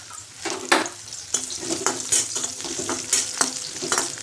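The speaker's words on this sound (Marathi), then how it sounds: "आता ह्या सर्व भाज्या आपल्याला तळून घ्यायच्यात व्यवस्थित." Carrots frying in oil for vegetable biryani, a steady close sizzle broken by repeated bursts of stirring and scraping against the pan, with no voices.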